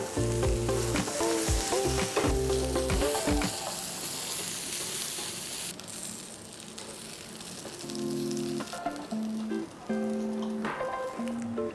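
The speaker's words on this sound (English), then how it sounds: "Fry until the onions are soft and the pierogies are brown." Onions and pierogies fry in a pan with a steady, close sizzle, broken by louder clattering stirs and scrapes near the start and again toward the end.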